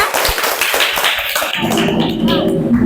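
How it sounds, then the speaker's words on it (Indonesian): Children in an Indonesian classroom clap their hands together in a quick burst of sharp taps, heard close and loud, and a voice speaks over the claps partway through. "Oke, tepuk tangan untuk kita semua."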